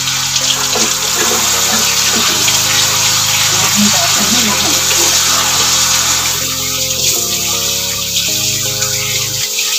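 Eggshells rinsed under a running kitchen tap, a steady close rush of water splashing into a sink with faint handling clatter throughout.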